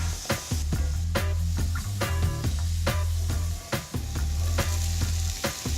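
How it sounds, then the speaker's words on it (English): Onions sauté in oil and maple syrup in a hot pan, a steady close sizzle broken by repeated sharp scrapes and clicks of stirring, with no voices. "take some more of the oil maple syrup mixture and add it to the hot pan, and start by sauteing some onions"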